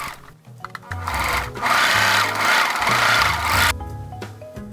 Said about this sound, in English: Then serge the raw edges of the packing pouch.